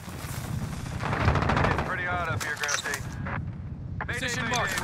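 Gunfire bursts in the video game Modern Warfare, dense crackling shots layered over a busy battle bed, with radio-style voices talking over the action throughout.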